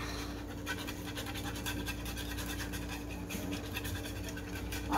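A dog pants rapidly and steadily near the microphone in a home kitchen, rhythmic breathy huffs with faint scratching, while thunder unsettles it outside.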